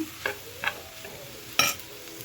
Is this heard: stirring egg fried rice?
yes